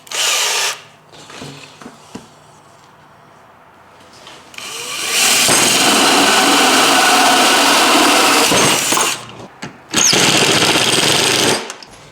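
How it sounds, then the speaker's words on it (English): Power drill boring into a drum part salvaged from another drum, with short bursts and then a long sustained loud whine, close up, with gaps of quieter handling between runs. "I think I might have drilled it a little small"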